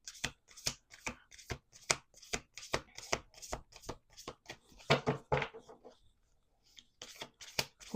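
Playing or oracle cards being shuffled by hand, rapid close riffling bursts in a quick uneven rhythm, a brief pause near the end before the shuffling resumes, no speech.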